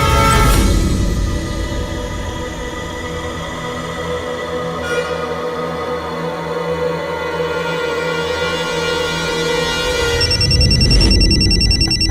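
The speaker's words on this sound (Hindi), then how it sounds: "वो तुम्हारा फोन रिंग कर रहा था" A telephone rings steadily for several seconds over a music-like background, the ringing tone loud and close, ending with a brighter electronic chime.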